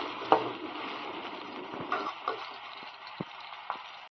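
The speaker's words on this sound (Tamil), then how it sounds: "இப்போ கடையை வச்சு எண்ணெய் ஊற்றிக்கலாம் அடுத்து வெங்காயம் போட்டுக்கலாம்" Chopped onions go into hot oil in a pan for egg curry, giving a steady close sizzle broken by a few soft clinks and stirring taps that fade toward the end.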